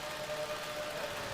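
A racing car engine held at full revs during a race with cold tyres in a racing video game, a steady buzzing drone that stays level and continuous throughout.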